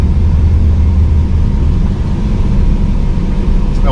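Harley-Davidson motorcycles revving nearby, a loud continuous low engine rumble that fills the whole stretch without pause, no talking.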